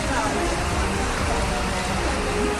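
Heavy early monsoon rain pours down in Mumbai as a dense, unbroken hiss of water, steady and loud throughout, with a voice speaking beneath it.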